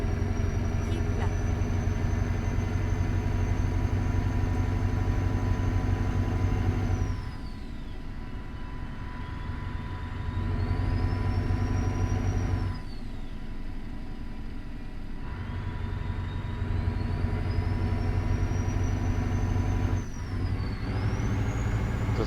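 Freightliner Argosy truck in American Truck Simulator running loud and steady, engine tone dropping and rising again through several downshifts with air-brake hiss; a voice talks over it.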